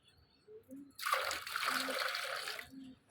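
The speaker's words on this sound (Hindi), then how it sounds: "मिट्टू को पानी डाल देता हूँ मैं।" Water pours steadily for about two seconds into a pet bird's bowl, a close splashing stream, with a few soft background voices or bird chirps around it.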